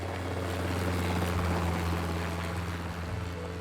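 A sightseeing helicopter flies over Iceland, its rotor and engine a loud, continuous droning roar that holds steady throughout, with no talk.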